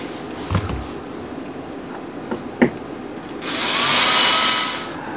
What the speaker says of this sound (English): So we're going to drill our pilot hole right there.